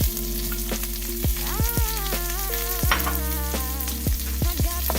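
Onions sizzle steadily in a pan for chicken tikka masala, a constant close frying crackle broken by sharp clinks and scrapes of a utensil stirring against the metal, with no talk.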